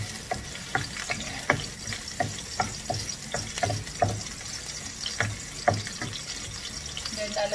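Garlic sautéing in about four tablespoons of cooking oil for a Filipino corn dish, a steady sizzle and crackle broken by regular scrapes and taps of a spatula against the pan, close and with no talk.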